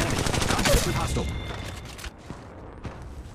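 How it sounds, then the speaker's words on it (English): Automatic gunfire in the mobile battle royale game Apex Legends Mobile, dense rapid bursts at first that thin into a few scattered shots, with voices heard over them. "Opening fire on the enemy."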